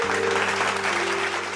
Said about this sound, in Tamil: கைத்தட்டு கைத்தட்டு கைத்தட்டு.